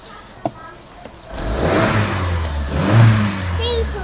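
A 1.2 VW Golf with 162,000 miles, just fitted with a new timing chain, fires up on its first start after a couple of faint knocks, then settles into a steady, rumbling idle with a voice talking over it.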